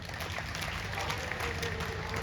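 Audience applause at a religious gathering of a monastery (math) in Taratara: a dense, steady wash of many hands clapping, sustained and fairly even throughout without clear breaks.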